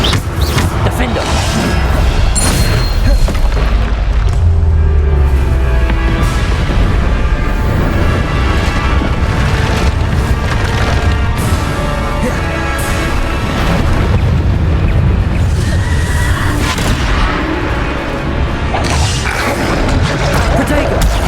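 Bombarda spell blasts in Hogwarts Legacy combat crash and boom continuously amid dense, loud battle noise and shielding spells, a steady barrage with no clear gaps.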